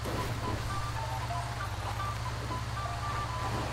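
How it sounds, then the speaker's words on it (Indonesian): A heavy bus drives in the GTA Online Prison Break heist, its engine droning loudly in a low, continuous rumble that holds steady throughout with no voices. "Susah loh bawa mobil berat begini loh."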